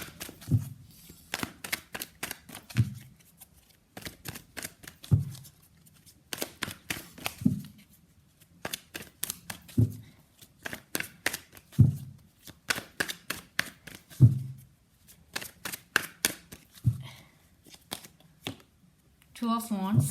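Tarot cards are shuffled by hand in repeated bursts of riffling and snapping, close and crisp, with short pauses between rounds and a few soft thumps as the deck is tapped.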